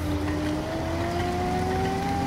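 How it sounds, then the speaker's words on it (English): An eZee electric bike conversion kit motor under throttle gives a steady, faint rising whine over a constant rolling hum, continuous and close, with no voices. "When you turn the throttle up to start the motor"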